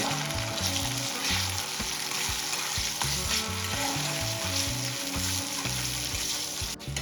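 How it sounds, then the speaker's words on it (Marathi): Tomatoes sautéing with onions in a pan for a shrimp chutney, a loud continuous sizzle and crackle close up, with rhythmic stirring scrapes throughout and no voices. "टोमॅटो आपल्याला छान मेल्ट होईपर्यंत परतून घ्यायचे आहे"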